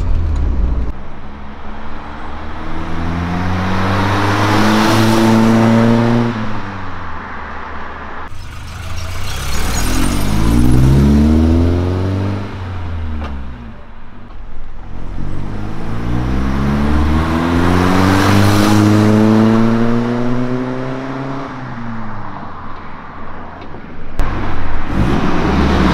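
A Volvo 240 wagon fitted with an IPD performance exhaust passes outside, engine revving hard and pulling through the gears in repeated rising sweeps, loud and close, fading between runs.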